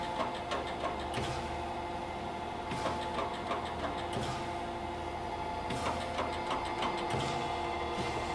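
A surface grinder's table feeds back and forth across the magnetic chuck, giving a steady mechanical hum with a rhythmic whir and clunk every few seconds at each reversal, fairly faint and without speech.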